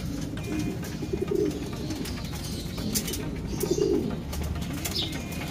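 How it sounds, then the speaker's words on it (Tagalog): Pigeons coo softly in low, throaty bursts, two clear coos standing out over a busy background of rustling and faint chirps. "Ayan po, kinuha na ni Kiyo de Pogi yung mga kalapati natin."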